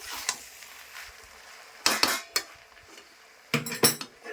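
Jackfruit and prawn curry stirred in a pot, with a few separate bursts of metal spoon scraping and clattering against the pot between quiet pauses, close and moderately loud.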